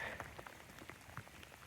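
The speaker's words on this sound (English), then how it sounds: "as you may be able to hear. It's still raining." Steady rain patters down on an outdoor fishing spot in the dark early morning during a carp session, a soft continuous hiss of drops with faint scattered taps, quiet and even throughout.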